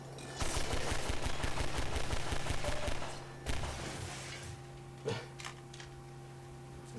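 Rapid automatic gunfire in the Half-Life 2 video game, a sustained burst of steady, mechanical shots for about three seconds, then a single loud report and a couple of scattered later bangs over a low hum.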